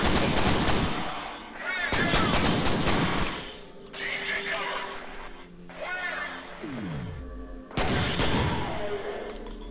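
Gunfire in the shooter F.E.A.R.: loud, dense bursts of automatic fire broken by short pauses, with one strong volley near the end, while a person talks throughout.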